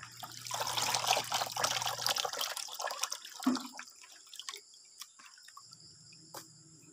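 Water running and trickling over flour in a strainer while washing out gluten, a steady pouring splash that stops after a few seconds, followed by sparse drips and small taps in a quiet room.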